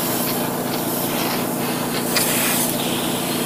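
Spray paint hisses steadily onto a Revell 1/4000 Imperial Star Destroyer plastic model kit, a close, continuous aerosol rush with slight swells as the can moves.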